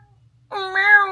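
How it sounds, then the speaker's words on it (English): Domestic cat giving a single clear, close meow that rises and holds for about half a second after a moment of quiet, loud and alone. "Oh my God, this cat."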